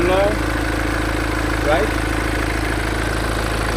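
A 2015 BMW X4 20d xDrive diesel engine idles with a steady, regular low drone, close and continuous, while someone speaks briefly over it.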